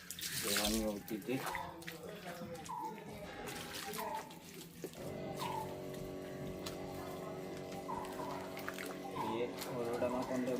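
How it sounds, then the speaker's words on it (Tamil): Water splashes and gurgles steadily into a vessel nearby, with a voice speaking over the pouring at times. "தண்ணியை ஊற்றிட்டு"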